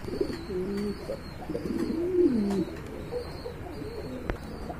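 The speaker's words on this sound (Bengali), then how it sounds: "বিগ সাইজের এক জোড়া কবুতর" Pigeons coo in low, throaty bursts, one rolling call standing out, over a quiet background with a faint sharp click near the end.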